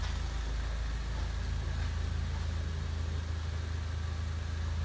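A 2013 Land Rover Range Rover Evoque Pure Plus idles quietly and steadily, a low, even engine hum with a faint rhythmic pulse that holds unchanged for about five seconds, with no voices.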